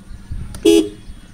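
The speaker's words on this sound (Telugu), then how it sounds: "ఇది హార్న్ సౌండ్." A 2020 Ford Freestyle Titanium Plus BS6 sounds its car horn once: a single short, sharp beep heard close up, standing alone against faint background noise.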